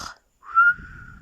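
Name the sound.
narrator imitating a dragon's whistling while sleeping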